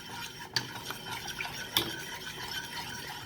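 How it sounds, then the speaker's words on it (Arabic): A spoon stirs boiling hibiscus with dissolving jelly in a pot, giving soft continuous scraping and bubbling with a couple of sharper metal clinks against the pot's side. "وهنقعد نقلب لغايه ما يتماسك الجيلي شويه، او يدوب شويه الجيلي في الكركديه المغلي بتاعنا"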